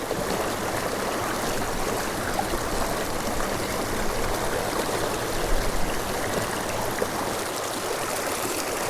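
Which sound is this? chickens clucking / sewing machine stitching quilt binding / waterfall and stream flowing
waterfall and stream flowing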